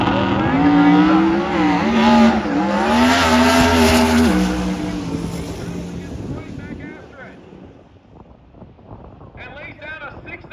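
Drag race cars on the starting line at Gainesville Raceway during Sick Week, their engines revving loudly with wavering, rising and falling pitch, then dropping away to a quieter, scattered background.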